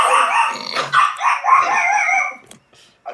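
Dogs bark and yip in a quick, overlapping burst that fades out, loud and near, followed by a short final yelp.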